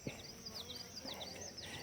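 Bees in a caught hive in the back of a truck give off a faint, steady buzzing with individual insects whirring past close by, no talk over it.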